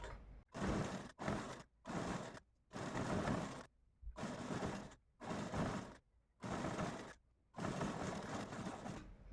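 Sewing machine stitching a blouse frill strip on its reverse side, running in a series of loud bursts of several seconds each, separated by short pauses, close up and without talk.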